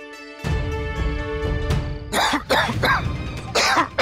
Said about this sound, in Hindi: बस थोड़ी खांसी आ गई थी।